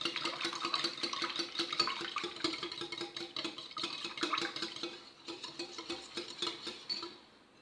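Egg mixture for Mexican quiche dough is whisked in a bowl, a fast run of close, crisp clicking and scraping strokes that continues steadily before easing off at the end, with no one speaking.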